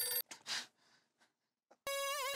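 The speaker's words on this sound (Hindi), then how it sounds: "मर गए, पूजा का फोन" A short electronic ringtone melody starts abruptly after a few brief quiet sounds, loud and close.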